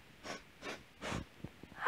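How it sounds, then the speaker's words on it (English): Three short, quiet nasal sniffs come at an even pace, each a brief breathy rush, followed by faint soft breaths. "Let's take three little sniffs."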